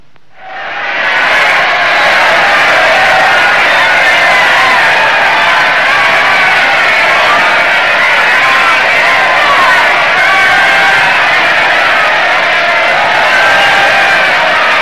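A large outdoor crowd cheers and shouts in a steady, loud roar that swells in quickly and holds throughout, with no clear individual voices standing out.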